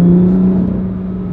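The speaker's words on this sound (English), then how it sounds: "As soon you put it in sports mode and press that pedal, you can hear the flaps of the exhaust opens, the car is alive." BMW M2 Competition in sport mode, engine note droning with the exhaust flaps open: a loud, close, steady tone that eases slightly over a brief moment, no voices.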